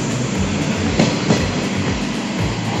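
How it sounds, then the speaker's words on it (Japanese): Limited express Yakumo 18 bound for Okayama rolls out, a loud steady rumble of wheels on rail with a couple of rhythmic joint clacks, heard close from on board. "特急やくも18号岡山行きの列車出発してきました"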